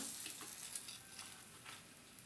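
Boneless milkfish, bangus, frying in hot oil, a quiet steady sizzle with soft crackling pops scattered throughout, close by and without talk.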